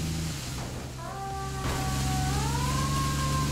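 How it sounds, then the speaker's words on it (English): New emergency vehicle sirens in a Roblox roleplay video game rise and wail in sweeping tones over a steady engine hum, close and fairly loud, with no talk. "I actually want to check out the new sirens out of Roleplay."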